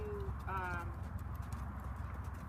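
Horse hooves trot in a riding arena, making regular, rhythmic clip-clop beats that are close and clear, with a brief high tonal call near the start.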